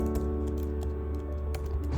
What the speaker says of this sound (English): So I'll type it